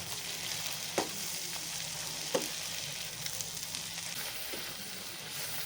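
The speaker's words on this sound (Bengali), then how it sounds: "এর মধ্যে একে একে চিংড়ি মাছগুলো ভেজে নেব" Medium-sized prawns frying one by one in white oil, giving a steady, fairly quiet sizzle with a few sharper pops and utensil taps, and no voices.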